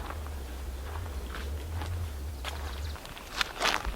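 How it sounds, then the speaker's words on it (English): Faint, irregular footsteps crunch over forest ground in the Olympic Mountains at a distance, a few scattered steps over a low background rumble. "Something's walking over there. It's loud."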